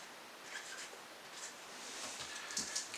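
A pen scratching writing onto a whisky bottle label, quiet and close, with short irregular strokes and no talking.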